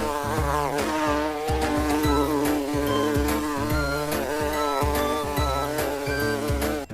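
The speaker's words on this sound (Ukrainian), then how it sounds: "Бджола жужить" A bee buzzes steadily over a bouncy, rhythmic musical backing, the drone holding on without a break.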